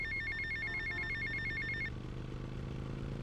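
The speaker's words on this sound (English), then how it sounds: "I gotta answer the phone." A telephone rings in the video game GTA Vice City, a rapid trilling electronic ring that repeats for about two seconds and then stops, leaving a low steady background hum.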